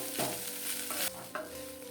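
Leftover rice is stirred and tossed in a hot pan for oggarane anna, with steady scraping and a soft sizzle close up and a couple of louder strokes against the pan.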